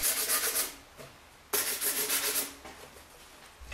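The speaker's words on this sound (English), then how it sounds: "check the holes and sand the edges if required" Sandpaper rubbing the edges of holes drilled in a plastic poultry drinker pipe, two close, steady bursts of scratchy back-and-forth scraping with a short pause between, no talk.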